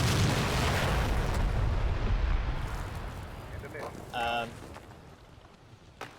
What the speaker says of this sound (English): Judging from the hit reports and things, there's the artillery